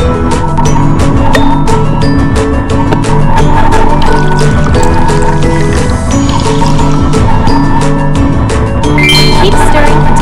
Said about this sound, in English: Pour some delicious milk